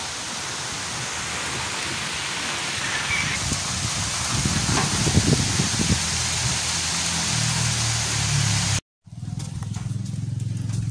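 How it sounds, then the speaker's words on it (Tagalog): Rain falls steadily outside a rural hut in a constant hiss, with a low engine-like rumble building in the middle before a brief cut, after which the rain continues alone. "Umuulan na naman."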